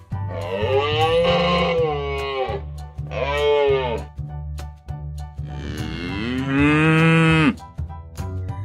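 A cow moos three times, long and loud at close range, each call rising and falling, with short gaps of near silence between them.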